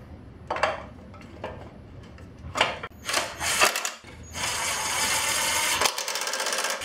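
Ratchet tools clatter and click while a mini bike cover is fastened back on, with several short metallic bursts followed by a longer, steady stretch of rapid ratcheting nearby, no talking.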